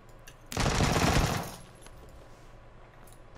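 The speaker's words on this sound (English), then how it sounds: "he's just testing his gun, I think." A short, loud burst of rapid automatic gunfire from the video game PUBG lasts about a second, then fades into quiet background noise.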